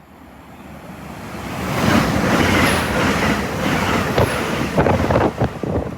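Train 2U32 to Cardiff running through a station on a British rail line: a steady rushing roar of wheels and air that swells and holds, with a couple of faint high squeals and rattling near the end.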